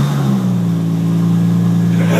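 A Toyota Supra sports car engine holds a loud, steady, close drone with a strong low hum, and people talk over it.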